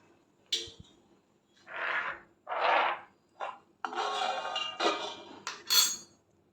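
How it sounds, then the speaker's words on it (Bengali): A knife cuts paneer into small pieces for kacha golla. Separate rasping, rubbing strokes with short pauses between them are followed by a busier run of scraping and clinking against a plate or board, close and clear. "পনিরটাকে প্রথমে আমি পিস পিস করে কেটে নিচ্ছি"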